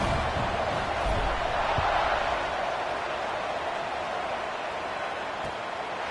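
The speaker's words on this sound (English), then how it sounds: "this crowd is buzzing after that last score" A large stadium crowd at a college football video game, UCF at Arizona State, keeps up a steady, dense roar. It is loud and continuous with no distinct voices rising out of it.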